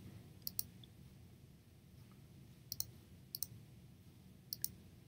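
Faint, crisp computer mouse clicks come in small pairs and singles, scattered at irregular intervals over a quiet room hum.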